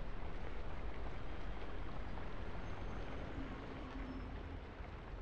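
Rain falls in the video game Planet Alpha as a dense, even, broadband hiss that fills the whole stretch without pause and fades slightly toward the end.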